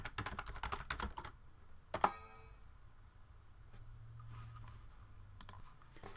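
Quiet keyboard typing as a password is entered at a computer during database work, a quick flurry of keystrokes, a sharper click, then a few scattered taps later over a faint room hum.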